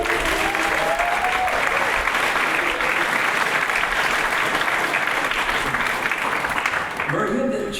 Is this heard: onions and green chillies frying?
no